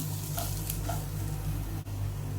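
Sautéed onions with turmeric and chili powder being stirred in a pan, giving a steady close sizzle with a few soft scraping stir strokes and no talking.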